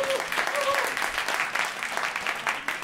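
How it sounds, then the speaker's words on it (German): Studio audience at a German comedy show in Berlin clapping together on cue, a dense burst of applause with some voices mixed in, fairly loud and close. "Einmal klatschen."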